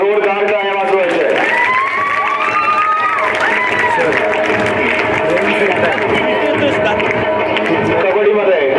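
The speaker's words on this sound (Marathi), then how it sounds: "जोरदार टाळ्या वाजवायचे." At a school prize-giving ceremony, a crowd claps and cheers steadily under a loud announcer's voice on a public address system, the applause continuous through the whole stretch.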